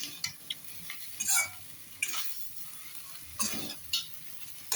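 Fried rice being cooked on a tawa, with intermittent scraping and clinking strokes of a spatula against the pan over a soft steady sizzle, fairly close and with no talking.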